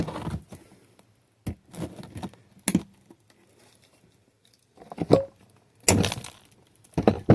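Glass from a disassembled Starlink router cracking and breaking in short, sharp bursts with crunchy patter, loud and close, separated by quiet pauses.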